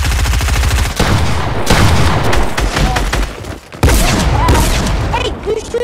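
Dense bursts of rapid automatic gunfire and booming shots in the Fortnite video game, loud and close, with brief gaps between volleys and a voice speaking over the shooting.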